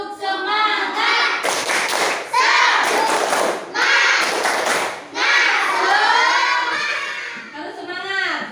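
A schoolroom class performs the tepuk semangat clapping chant, children's voices shouting in rhythm between bursts of loud, close group claps, the pattern repeating in several phrases over about eight seconds.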